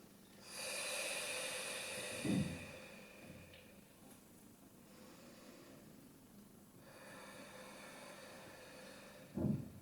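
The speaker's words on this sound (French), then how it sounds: "Et dernière respiration." Slow, deep breaths from a person lying on the floor during a breathing exercise: long airy inhales and exhales, with a soft nasal snort at each end, quiet and close.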